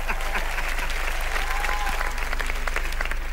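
Loud, dense audience applause fills a Hindi comedy entertainment show stage, a steady wash of clapping from many hands that runs without pause for the whole few seconds.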